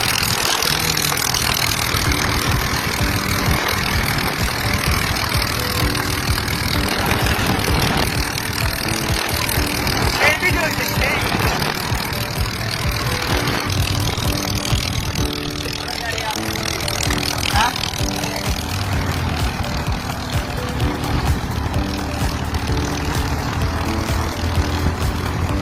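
A small homemade single-engine airplane drones steadily with its propeller turning, a continuous mid-pitched engine hum running throughout, with crowd noise and voices mixed in at a distance.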